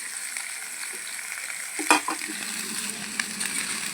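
Boiled, salted potato pieces sizzle quietly in a pan, a soft, even frying hiss with an occasional stir clink, heard alone with no voices.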